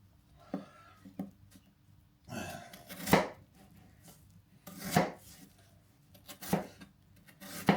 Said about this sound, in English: Slice it like so.